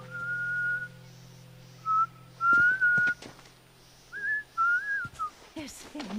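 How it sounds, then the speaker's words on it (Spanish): A person whistles a short, wavering tune in several separate phrases, clear and close to the mic, with a low steady hum underneath and some brief clicks and noises between the phrases. "estoy silbando."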